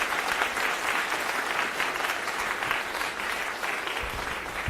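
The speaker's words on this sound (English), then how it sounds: "As long as you're in the clapping mood" Lecture-hall audience at the end of a biochemistry class applauding steadily, a sustained even patter of many hands clapping at moderate level with no break.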